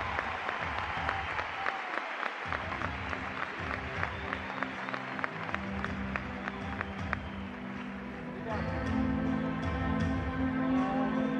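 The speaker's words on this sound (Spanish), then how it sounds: "Un aplauso para la música." A large concert audience at Luna Park applauds in a steady roar of clapping and crowd noise, with cheering voices rising over it in the last few seconds.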